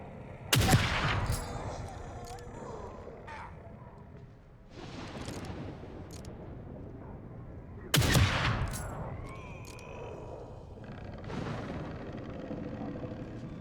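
Gunfire from a sniper rifle in the video game The Evil Within 2: two loud, sharp shots about seven seconds apart, each with a ringing tail, and quieter game sounds in between.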